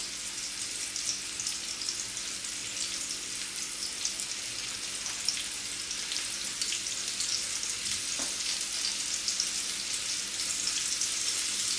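Steady, dense sizzling of meatballs frying in a hot pan, continuous and fairly close, with no voices.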